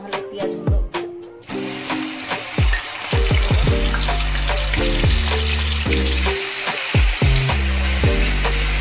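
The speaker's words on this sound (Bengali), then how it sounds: "পেঁয়াজটা দেখুন মোটামুটি আমাদের ভাজা হয়ে গেছে, তেল ছেড়ে দিয়েছে।" Onions frying in vegetable oil for Bengali-style chicken dopiaza, a loud continuous close sizzle with repeated scrapes and clanks of stirring, no clear speech.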